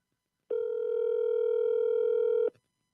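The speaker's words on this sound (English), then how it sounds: "can you hear that, Mafio? That ringtone" A single steady electronic phone tone rings out clearly for about two seconds, then stops; nothing else is heard.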